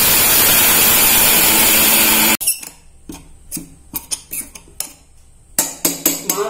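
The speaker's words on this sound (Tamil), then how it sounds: "மாவு அரைச்சிடலாம்." Mixer grinder grinding rice with cardamom into flour for a lamp, a loud steady whirring roar that cuts off abruptly, followed by scattered clinks and knocks of the jar being handled.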